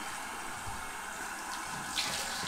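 Cold tap water runs steadily into a sink during a wet-shaving routine, a continuous close hiss and splash of face rinsing with a slight swell near the end.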